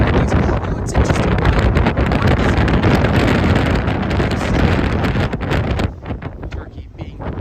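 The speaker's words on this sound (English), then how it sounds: "I'm quite sheltered from the wind just in this spot here" Strong wind on the Dardanelles Strait roars steadily and loudly against the microphone, easing slightly near the end, with a voice faintly underneath.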